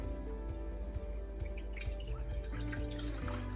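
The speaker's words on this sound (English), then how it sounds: "start straining it into the bowl" Buttermilk drips through a strainer into a bowl as homemade butter is separated, making a series of soft, irregular close drips over a low background hum.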